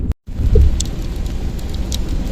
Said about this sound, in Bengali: প্রচুর বৃষ্টি নেমে গেছে।